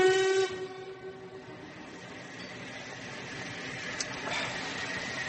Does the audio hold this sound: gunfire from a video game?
no